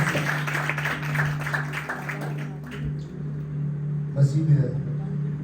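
A church congregation at a Good Friday service applauds, scattered clapping rising briefly before fading under a humming background, with a voice speaking over it.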